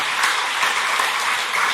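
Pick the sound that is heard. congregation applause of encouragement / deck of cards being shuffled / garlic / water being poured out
congregation applause of encouragement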